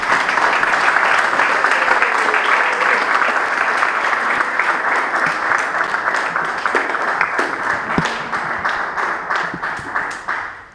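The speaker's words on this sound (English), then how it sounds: "So let's just give them a loud round of applause." A graduation ceremony crowd applauds the graduating students with loud, dense clapping that fills the room, then gradually thins into scattered individual claps as it dies down near the end.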